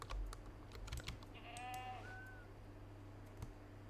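Goats bleat in the hunting video game Way of the Hunter, one wavering cry and a shorter second call rising faintly at a distance, while nearby keyboard clicks and taps sound before and after.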